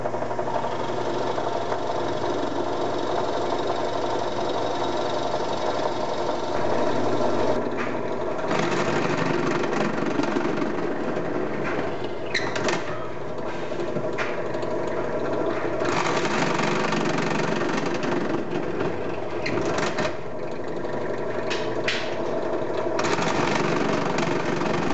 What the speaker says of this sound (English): we're going to take it over to the drill press, remove most of the material